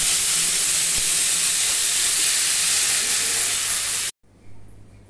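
Mustard greens paste dropped into hot oil tempered with cinnamon and cardamom, a loud broad hissing sizzle held steadily for about four seconds, then cutting out abruptly to quiet.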